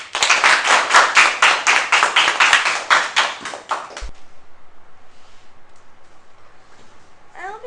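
An audience bursts into clapping for about four seconds, dense and loud, then falls to a sparse, quieter patter of scattered claps that trails off.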